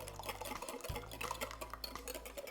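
A whisk taps and swirls quietly in a bowl as extra virgin olive oil is beaten into fattoush dressing. The soft, rapid clinks and liquid stirring are faint and steady, with a low hum beneath.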